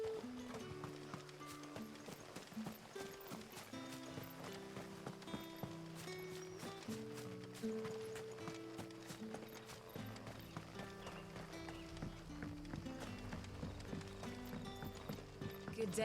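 Horse hooves clip-clopping in the video game Final Fantasy 16, a steady run of close, distinct hoofbeats under continuous tonal background music.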